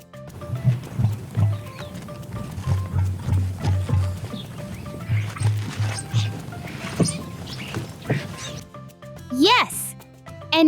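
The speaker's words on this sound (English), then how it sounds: "Yes, an emu." An emu gives its deep booming call, a series of low, resonant pulses repeating in short bursts, fairly close and steady across most of the stretch, with a brief rising tone near the end.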